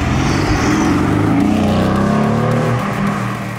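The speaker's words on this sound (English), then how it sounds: "The GTR features the usual 4-litre twin-turbo V8, pumping out 430 kilowatts of power" A 2019 facelift Mercedes-AMG GT R with a 4-litre twin-turbo V8 driving hard, its engine roaring loud and close with a rising, sustained exhaust note and a hint of tire noise.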